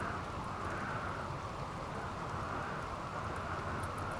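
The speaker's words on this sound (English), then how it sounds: "It is raining though, right?" Rain in the colony-building game Rimworld, a steady, even hiss of falling rain that holds unchanged throughout, with no voices over it.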